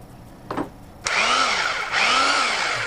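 A Bauer 20 volt cordless drill set to hammer mode whirs up abruptly and runs in two close, loud bursts with a brief dip between, after a couple of faint clicks from its switch.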